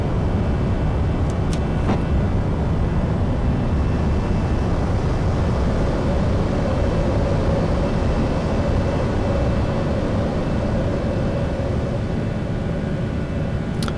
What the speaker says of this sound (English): And that was a nice and smooth takeoff.